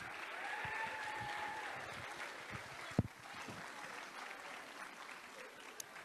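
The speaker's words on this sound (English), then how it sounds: "Parents, would you give a big round of applause for the class of" Parents in an audience clap for a 5th grade class at an elementary school celebration, a fairly faint, steady spread of applause with a couple of sharper nearby claps and light voices mixed in.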